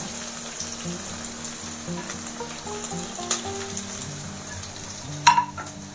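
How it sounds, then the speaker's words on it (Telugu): Capsicum, carrot and onion fry for egg noodles, giving a steady close sizzle throughout, with a couple of sharp utensil scrapes from stirring near the end. "అవి కొంచెం ఫ్రై అయిన తర్వాత క్యాప్సికము క్యారెట్ అలాగే ఆనియన్"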